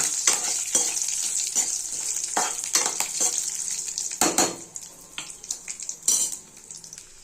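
Chana dal, dried red chillies and curry leaves frying in hot oil for radish sambar: a steady close sizzle broken by repeated scrapes and clinks of a spoon stirring against the pan.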